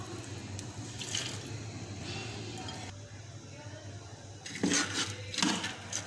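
Water is poured from a tap or jug into a cooking pot of mutton and lentils, a liquid splashing that comes in short bursts over a steady low hum of the kitchen.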